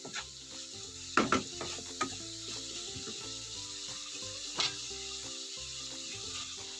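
Minced pork with dried chili stir-fried in a pan, a steady sizzle with scraping and clinking from the spatula, sharper knocks near the start and midway, no talking.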